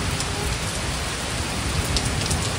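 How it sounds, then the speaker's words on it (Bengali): Heavy rain pouring steadily during a storm, a dense, loud, unbroken hiss filling the whole stretch, close and constant with no talking. "এই দেখো বৃষ্টি পড়ছে আর ঝড় উঠেছে।"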